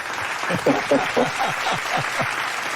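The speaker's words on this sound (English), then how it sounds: "I got to give you a round of applause for that, brother" A small group claps in a loose, steady patter throughout, with speech-like vocal sounds also present over the clapping.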